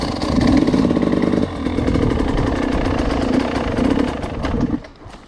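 Motorcycle engine chugging at low, steady revs while riding slow figure eights, loud and close throughout, then easing off and fading near the end.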